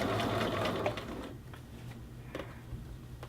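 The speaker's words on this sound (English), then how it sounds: "I'm stretching it actually around that arm of the sewing machine to help favor that curve" A sewing machine stitches a men's shirt cuff with a close, rapid mechanical whirr that runs loudest at first, then continues more quietly with light ticking.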